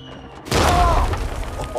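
A CGI explosion effect from the action film The Gray Man: a sudden deep boom with rumbling, crackling debris that swells and lingers for over a second, loud and wide after a quiet lead-in.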